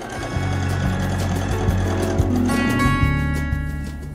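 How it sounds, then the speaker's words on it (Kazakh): A sewing machine stitches fabric strips with small pleats for an embroidered kitchen towel, its motor running in a steady, fast mechanical rhythm throughout at close range. "Енді алдындағы дайындап қойған полоскаларымызды тігіп шығамыз, айландырып."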